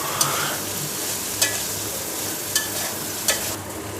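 Watermelon rind sautéing in spice paste in a pan, for a vegetarian dish, fills the clip with a continuous frying hiss, marked by four crisp taps or scrapes of a spatula spaced about a second apart.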